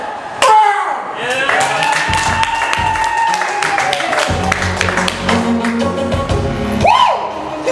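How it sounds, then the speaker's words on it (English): Thin, scattered clapping rises from a small pub comedy audience of twenty-somethings, steady but sparse for several seconds, with a few sharper claps standing out. "Smattering of applause from disinterested and apathetic 20-year-olds."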